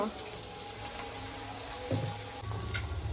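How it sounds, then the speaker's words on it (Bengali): Beans frying in a pan on a home kitchen stove, a soft continuous sizzle with a few clatters of utensils, heard under a woman's speech. "এরপরে ভাজার জন্য দিয়ে দিয়েছি বিনস।"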